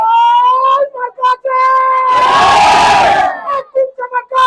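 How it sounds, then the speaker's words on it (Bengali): A crowd at a BNP political rally in Nasirnagar chants loudly in unison, then breaks into a dense burst of clapping and cheering before the chanting resumes. "সবাই একটা হাততালি এই হাততালি দেই"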